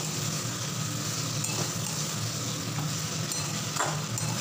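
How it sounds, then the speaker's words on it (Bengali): Ginger paste and coriander powder sizzle steadily in a pan over low to medium flame, with a continuous hiss broken by occasional scraping stirs, close up and without speech. "এবারে মশলাটা দিয়ে একটু 2 মিনিটের মতো কষিয়ে নিতে হবে"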